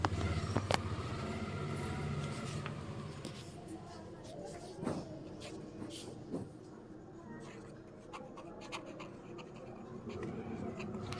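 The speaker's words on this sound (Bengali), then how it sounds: "আমিও লিখছি আমার প্রিয় খাবারের নাম" Pen scratching across a notebook page as someone writes down a favourite food during a home guessing game, soft intermittent strokes with occasional taps, over faint background rumble.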